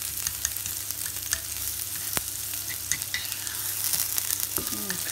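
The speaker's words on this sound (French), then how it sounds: "je vais rajouter mon kebab" Kebab meat fries in a pan with onions and shallots, a loud, continuous close sizzle broken by crackles and a few stirring knocks.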